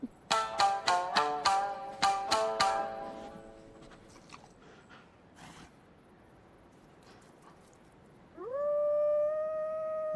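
A wolf howls in the video game Ghost of Yotei: a burst of rapid, harmonic yips and howls at first, then quieter ambience with faint clicks, and finally a long, steady rising howl near the end.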